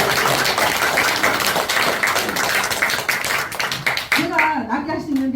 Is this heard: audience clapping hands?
yes